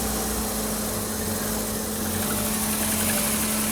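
A car engine idling roughly while warm, a steady low hum with a constant tone and faint uneven vibration, close and alone with no talking.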